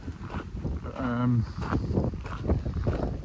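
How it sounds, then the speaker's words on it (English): Wind buffets the microphone in a rough, gusty rumble throughout, with a person speaking briefly over it. "I'm sorry it's windy."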